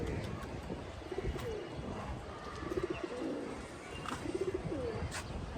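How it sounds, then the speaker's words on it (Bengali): Pigeons in a loft housing Chila and Giribaz flying breeds coo repeatedly in soft rhythmic bursts, several birds overlapping amid a low, busy background of shuffling and distant noise. "সবগুলো রণ কবুতরই দেখানো হয়েছে।"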